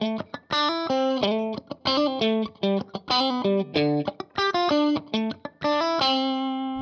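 Distorted electric guitar plays a riff alone, with crisp rhythmic chord stabs and short single-note runs that end on a sustained ringing note.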